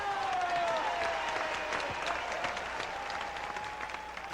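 Tennis crowd at a 1984 Dallas final applauding steadily, a dense continuous wash of clapping that holds loud throughout and eases slightly toward the end.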